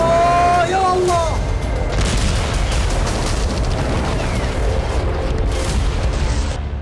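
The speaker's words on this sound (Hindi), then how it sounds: "उड़ता हुआ ये रॉकेट अचानक फट जाता है।" A rocket bursting in the night sky during the Israel-Hamas conflict, captured in news footage: a loud, sustained rumbling blast with crackling that fills the whole stretch, rising tones at the start and dense roar throughout.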